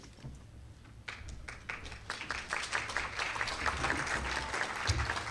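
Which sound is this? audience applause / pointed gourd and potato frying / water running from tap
audience applause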